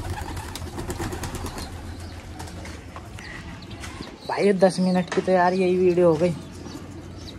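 Pigeons cooing softly in a loft while being shut in for the night, heard under someone talking continuously close by.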